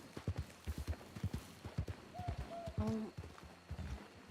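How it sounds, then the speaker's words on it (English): Horse hooves clip-clopping in the Red Dead western game, a quick rhythmic series of close hoof strikes at a trot, with a brief high creak or whinny partway through. "The fact that the fucking horse wouldn't stop that made me so mad."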